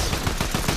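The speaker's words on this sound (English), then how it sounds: "You shot with your goddamn sniper." A sniper rifle shot in the Fortnite video game, heard as a burst of dense, loud gunfire-like noise lasting under a second with no talking.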